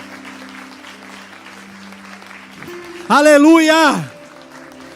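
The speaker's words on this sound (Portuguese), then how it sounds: "Vamos aplaudir a Ele." Church congregation applauding during a worship service, a steady broadband patter of clapping heard throughout, with a loud shouted voice rising above it near the end.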